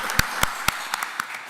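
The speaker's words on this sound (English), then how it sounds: "Let's give her a round of applause." An audience at a county commissioners zoning hearing applauds with sparse, distinct claps spaced out over a short stretch.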